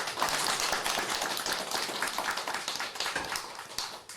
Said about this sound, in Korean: 우리 다시 한번 박수를 한번 보내겠습니다